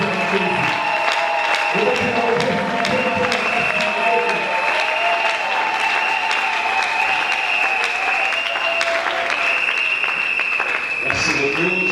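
A church congregation at a French-language worship gathering claps and cheers in sustained, loud applause, with a voice speaking and music continuing beneath the clapping.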